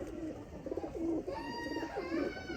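Pigeons from a breeding pair for sale coo nearby, with a few low throaty coos over a quiet background and a faint higher chirping toward the end.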